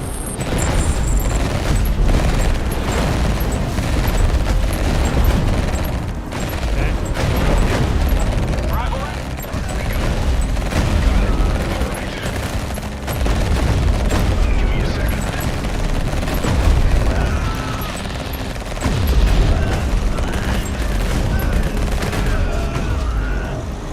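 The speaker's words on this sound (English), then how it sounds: "Commander, we're under fire here." Repeated gunfire and heavy explosive booms fill a battle in the game Frostpunk, with dense bursts of shots and rumbling blasts continuing throughout, loud and close, while voices speak over the fighting at times.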